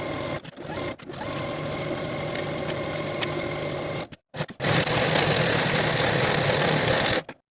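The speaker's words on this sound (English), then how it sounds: "Then sew both of your side seams with a 5/8 inch seam allowance and finish your seams." A sewing machine runs steadily, stitching the side seams of a pair of pants at a 5/8 inch seam allowance, with a brief pause and restart partway through before a final stop, close and alone.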